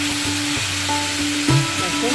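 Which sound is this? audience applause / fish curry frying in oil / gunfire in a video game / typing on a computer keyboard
fish curry frying in oil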